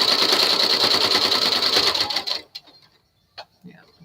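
A home sewing machine stitches across fabric seams in a rapid, loud mechanical whir for about two seconds, then stops, leaving a few scattered clicks and small handling sounds.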